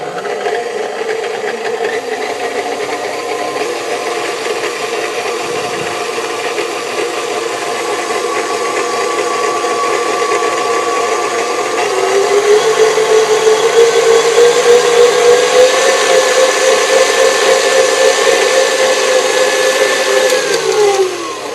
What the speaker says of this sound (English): So now we want to turn the beater down.